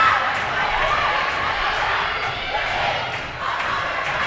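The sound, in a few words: rowdy crowd of high school volleyball fans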